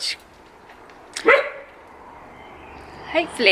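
A dachshund lets out a couple of short, sharp barks at close range, one burst early and another near the end, with quiet room tone in between.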